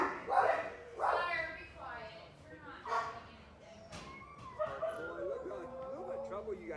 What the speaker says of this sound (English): Made everyone bark in there.